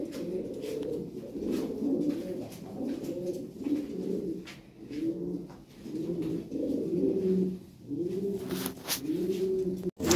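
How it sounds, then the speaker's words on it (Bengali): A pair of toy-breed pigeons with bright red beaks coos repeatedly in low, rolling phrases, fairly close and steady throughout with no talk. "এই যে এইখানে এক পেয়ার কবুতর আছে"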